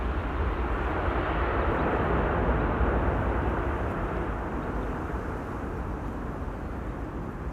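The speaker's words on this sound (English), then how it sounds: "Sounds like an idle reverse landing to me." A passenger airliner landing at Amsterdam Schiphol Airport with idle reverse thrust gives a steady, broad engine roar and rush that holds at a constant loud level throughout, heard alone with no voices.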